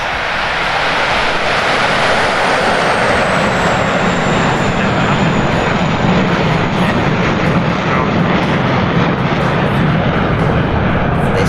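A Saab SK60 twin-jet, two-seat trainer flying at an airshow, its loud continuous jet roar filling the air with a slowly falling whine as it passes.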